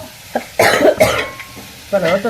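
A person ill with fever coughs in a home kitchen, a few sharp bursts close by, with some throat noise and background bustle between them.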